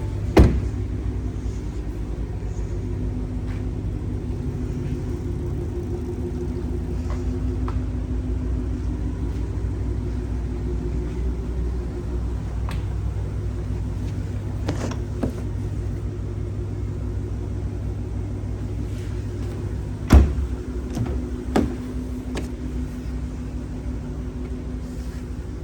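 A 2023 Audi S4 Quattro all-wheel-drive engine idling steadily, a low even rumble throughout with a couple of brief clicks or knocks, no voices.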